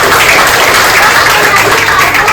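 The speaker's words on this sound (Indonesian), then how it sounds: "Tepuk tangan untuk anak-anak dulu ya." Audience at a school gathering applauding children after they sing Garuda Pancasila, a loud, continuous wash of many hands clapping at close range.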